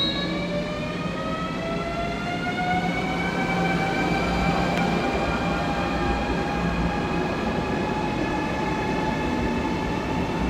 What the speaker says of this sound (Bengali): এই যে চলে যাচ্ছে আমাদের ট্রেন।